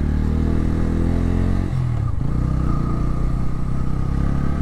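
Bajaj Pulsar N160 motorcycle riding through mud, its engine droning steadily and loud up close with a brief dip in throttle midway, then a steady mid-pitched run with rattling undertones.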